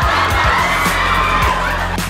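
An audience at a family comedy magic show screams and cheers on cue, a loud, continuous crowd roar of mixed voices filling the space.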